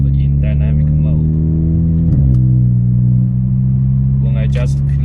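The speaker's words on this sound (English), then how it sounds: "When I just click the close button, I can definitely hear the exhaust is much quiet." An Armytrix Valvetronic car exhaust with its valve closed in dynamic mode idles with a loud, steady low rumble and a brief rev bump partway through, while a person talks over it.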